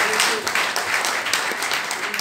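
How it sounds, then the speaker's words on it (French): An audience at a ministerial press conference breaks into loud, sustained applause, dense overlapping claps filling the room steadily from start to finish. "on peut applaudir pour le Cameroun"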